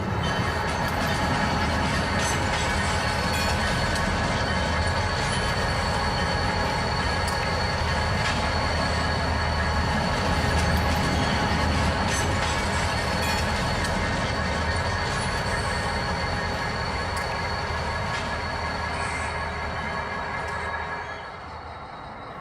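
HO scale model train led by three SD40-2 locomotives running on a layout, a loud, steady rolling rumble with metallic wheel squeal and rhythmic clicking, continuous until it eases slightly near the end, with no clear talking.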